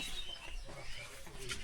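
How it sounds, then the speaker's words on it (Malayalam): Faint, scattered bird chirps sound over a soft outdoor background hum, brief and distant, in a rural tribal village in Odisha. "ഫുള്ള് കിളികളുടെ സൗണ്ട് കേൾക്കുന്നത്."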